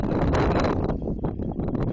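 Gusts of wind buffet the microphone at an outdoor beach spot, a rough, steady rush with a brief lull midway and no voices.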